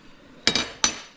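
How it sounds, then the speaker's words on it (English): A hammer strikes the flattened end of a scrap steel tube three times in quick succession, each blow a sharp metallic clank close by. "This was in the press, and then hitting it with a hammer."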